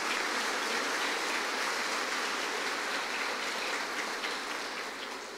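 Church congregation applauding during a Sunday Mass homily, a continuous broad wash of many hands clapping at moderate distance, steady throughout with no speech.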